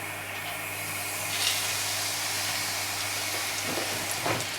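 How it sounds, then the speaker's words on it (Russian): Mushroom and rice cutlets fry in vegetable oil in a hot pan, giving a steady, close sizzling hiss throughout with a few brief louder spits. "перекладываем на разогретую сковороду и жарим на растительном масле"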